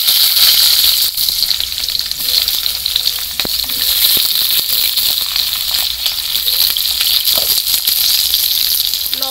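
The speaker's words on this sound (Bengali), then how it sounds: "আমি প্রথমে বেগুনগুলো ভেজে নেব।" Eggplant slices fry in a hot wok for a Bengali mixed vegetable dish, making a loud, dense, continuous sizzle with steady bubbling hiss and occasional sharp crackles.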